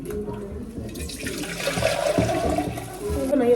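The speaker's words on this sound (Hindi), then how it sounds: "एक में डाल दिया है हमने वो मीठा पानी" Sweet water is poured into golgappa (pani puri) shells at home, giving a soft liquid splash and trickle beneath steady, close conversation.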